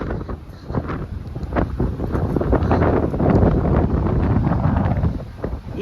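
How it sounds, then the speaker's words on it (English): A strong coastal gale roars into the microphone in a loud, steady rush with gusty swells throughout and no speech. "I have to find somewhere with some shade from this wind if you want to have a drink."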